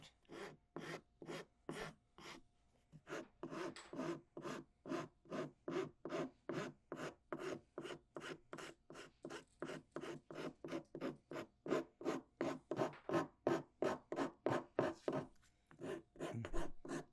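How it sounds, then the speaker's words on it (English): A rasp files a hand-carved wooden spoon in a steady back-and-forth rhythm, dozens of scraping strokes in a row, close and clear, with no talking. "It's just a matter of filing and sanding and scraping to get the kind of finish you want"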